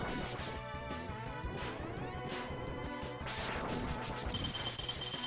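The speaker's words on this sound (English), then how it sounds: "Break that glass." Glass shattering in the Mega Man X video game, a bright crashing smash layered over busy game music and sound effects, with a sweeping whoosh and a high electronic tone near the end.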